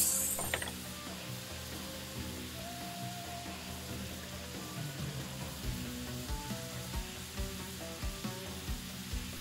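Meat frying in oil and butter in a pan, a steady, quiet sizzle with occasional crackles and faint clinks from stirring, continuous and close throughout without any voices.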